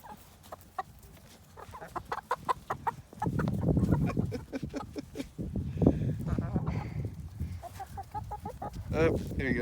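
Chickens cluck and squabble nearby while being fed bread, with busy, rapid calls and scratching rising at times, and people talk over them throughout.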